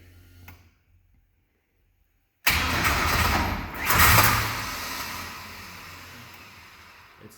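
Engine in a project car cranking on a jump box after a new engine install: silence, then a sudden loud, steady whirring crank that swells briefly, then fades without catching.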